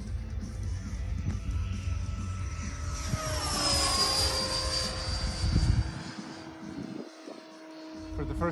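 An E-flite Carbon T-28 RC airplane with retractable gear makes a slow pass, its electric motor whine rising and then sliding down in pitch as it passes close by, under wind noise.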